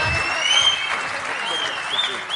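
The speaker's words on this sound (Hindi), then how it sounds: "एक बार जोरदार तालियां" An audience at a comic poetry event applauds a poet, a steady, fairly loud patter of clapping mixed with voices and a thin, high sustained tone running through.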